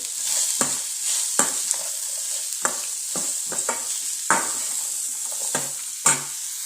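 A spoon stirs beetroot curry frying with salt, chilli and turmeric, steady close sizzling broken by about a dozen sharp scraping clacks against the pan at an irregular pace, with no voices.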